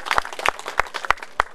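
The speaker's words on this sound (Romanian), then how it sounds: "Aplauze!" Scattered, sparse claps from an audience at a rural village festival in Prisăcani, Romania, a few distinct hand claps spaced unevenly through a short moment.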